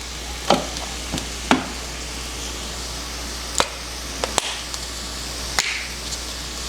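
Seasoned food sizzles softly in a pan under a steady hiss, broken by a handful of quick scraping strokes and sharp clicks of stirring, close and fairly quiet.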